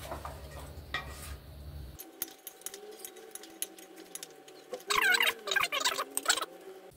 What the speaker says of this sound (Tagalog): At haluin natin siya para magpantay yung kanyang lasa.